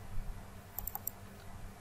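A few sharp, quick computer mouse clicks, including a crisp double click, sound close and faint against a low background hum while working in AutoCAD Civil 3D.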